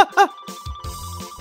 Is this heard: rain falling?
no